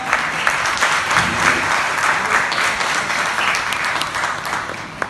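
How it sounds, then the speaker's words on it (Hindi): Applause from an audience at a song release event, steady clapping throughout, loud and close, with a sharp clap accent at the end. "इनके लिए तालियां।"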